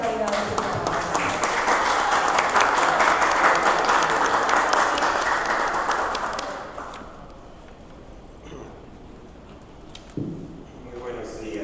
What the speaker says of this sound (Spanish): vamos a recibir con un fuerte aplauso a nuestras tres personalidades invitadas